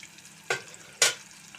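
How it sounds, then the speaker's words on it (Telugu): Thinly sliced large onion frying in a pan gives a quiet, steady sizzle broken by two short, sharp stirring scrapes. "బాగా వేయించుకుందాం."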